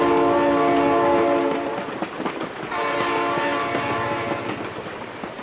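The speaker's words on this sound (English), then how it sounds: "Oh my god, train!" A train in the BeamNG driving game sounds a loud, sustained multi-tone horn, then rumbles and clatters past close by; a second long horn blast follows as the cars roll on.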